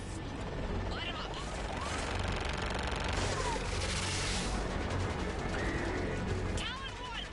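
Gunship weapons rattle in Mass Effect 3, firing on ground targets: dense, continuous automatic fire and mechanical whirring fill the clip, with brief radio voices over it.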